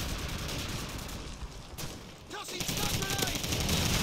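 Rapid gunfire in the video game Call of Duty 4: Modern Warfare rattles in dense bursts, dips briefly, then resumes with a short spoken remark layered over the shooting.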